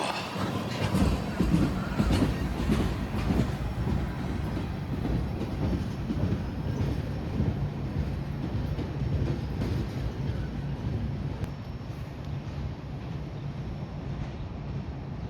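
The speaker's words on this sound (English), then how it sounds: "Alright, here's the last train car." Train cars rumble past steadily at close range, a continuous rolling roar with faint clicking from the wheels.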